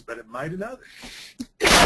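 A person speaks briefly, then a loud, sharp sneeze bursts out at the end, close and abrupt.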